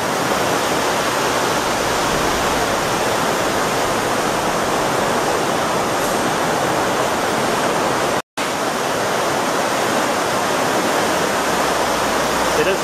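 The Torondoy River rushes steadily near channelization works, a loud, continuous broadband roar of fast water close by with no break except a momentary dropout.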